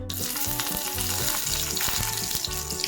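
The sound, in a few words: curry leaves sizzling in hot refined oil in a pan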